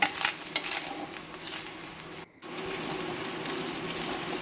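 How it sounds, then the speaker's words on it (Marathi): A mixture stirred and dry-roasted in a pan sizzles and scrapes steadily, with a brief pause midway before the frying noise resumes, close and fairly loud throughout. "हे मिक्स करून घेवपाचे, बरें खरपूस भाजून घेवपाचे।"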